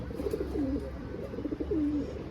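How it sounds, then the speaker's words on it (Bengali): A black pigeon coos twice at close range, each phrase a rolling, bubbling call with a soft rising-falling tail, over a quiet background hum. "এটাই আমার কাছে সেরা কবুতর"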